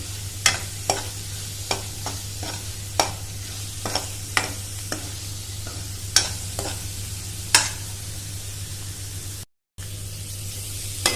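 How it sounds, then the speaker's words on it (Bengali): Potatoes sautéing in a pan, a steady frying sizzle with a constant low hum and irregular sharp scrapes and stirs against the pan. "আলুগুলোকে একটু কষে নিয়েছি।"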